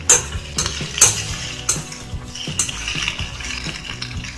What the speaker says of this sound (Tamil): நல்லா ஹை ஹீட்ல சும்மா ஒரு நிமிஷம் நீங்க வதக்கிங்கன்னா போதும்